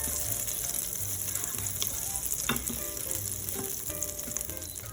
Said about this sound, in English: take 1 tablespoon of butter and put it on your pan and let the butter melt